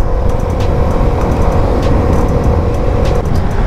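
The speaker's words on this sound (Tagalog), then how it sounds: "samahan nyo ako guys sa ating biyahe together with ating legendary na Suzuki Smash" A Suzuki Smash 115R motorcycle rides along, its steady engine drone and road rumble loud and continuous throughout with no pauses.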